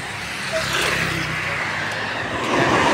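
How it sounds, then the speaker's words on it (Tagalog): Cars rush past on a busy highway, a continuous wash of tire and engine noise with individual vehicles swelling nearby and fading. "Marami pa pang sasakyan."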